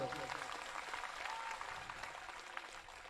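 A crowd at a religious court gathering claps together in a faint, steady wash of applause heard from a distance, with a brief voice near the start.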